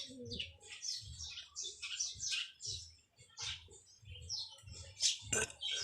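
Racing pigeons call near a loft, with chirps, coos and soft warbling notes overlapping in irregular bursts against a low hum.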